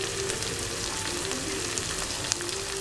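Tawa kaleji, liver pieces with crushed chili, red chili, turmeric and coriander, sizzles and fries steadily on a hot griddle, a continuous close crackle with occasional sharper pops and no talking.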